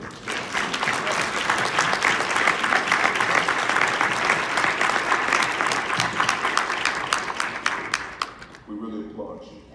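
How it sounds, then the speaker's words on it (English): Sustained audience applause fills the room for about nine seconds, dense and loud, then tapers off quickly near the end as a voice begins speaking. "We really applaud you"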